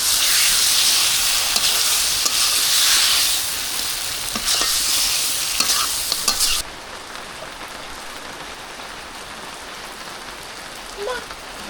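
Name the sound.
beef being stir-fried without water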